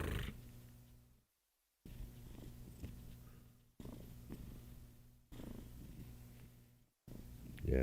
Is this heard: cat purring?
yes